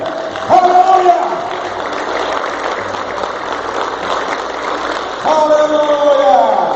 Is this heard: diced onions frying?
no